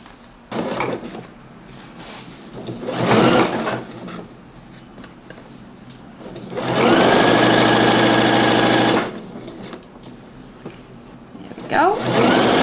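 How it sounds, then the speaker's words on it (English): A sewing machine runs stitching straight across a lapped zipper, with a steady rapid mechanical whir in short runs and one longer two-second run, close by, while a person talks in between. "And then we can just sew straight across."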